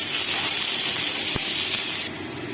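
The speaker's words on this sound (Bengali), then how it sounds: "এবার এই তেলের মধ্যে আমি কুচনো পেঁয়াজগুলো দিয়ে লাল করে ভেজে নেব।" Chopped onions go into hot oil to fry until reddish brown, making a loud, continuous broadband hiss close by that abruptly drops to a quieter sizzle near the end.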